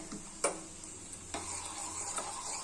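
Lentils sizzling in hot ghee for sweet pongal, with a steady low frying hiss, occasional sharp clinks as a spoon scrapes and stirs the pan, no voices.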